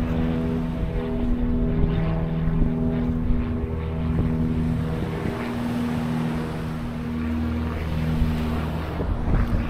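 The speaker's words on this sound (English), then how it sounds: "here goes the Skybus out of the airport" A Skybus propeller plane takes off from the Isles of Scilly airport, a steady droning engine hum heard from a distance, continuous across ten seconds with wind noise and no talk.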